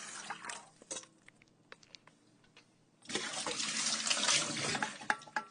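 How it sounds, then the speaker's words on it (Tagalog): Water is poured into a cooking pot of chicken kabsa, a loud, close splashing rush that begins abruptly after a few quiet seconds of light clinks and stirring. "At yan guys, lalagyan na natin ng tubig."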